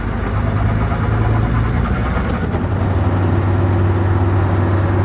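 A Land Rover engine with a damaged gearbox drones steadily in fourth gear, a loud, low, continuous hum with vibration and no talk.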